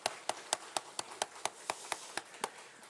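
A church congregation at a special early-morning prayer service claps in unison, about a dozen sharp, evenly spaced claps in a steady rhythm, crisp and moderately loud.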